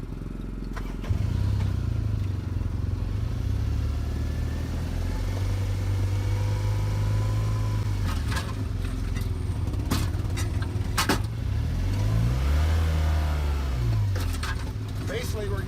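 The engine of a grid soil sampling rig runs steadily at a low rumble, rising and falling in pitch a few times, while people talk nearby over the noise.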